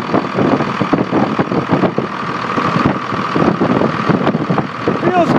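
A Cummins diesel engine idles on a truck in California, a steady mid-range rumble with a slight pulsing texture and voices talking over it.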